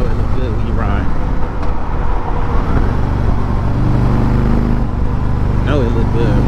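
A freshly built Harley-Davidson Road Glide motorcycle rumbles steadily on the road while the rider talks over the engine throughout.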